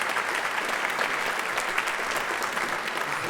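An audience at a innovation summit session applauds the panel moderator, a dense steady clapping that fills the whole moment with little change in level.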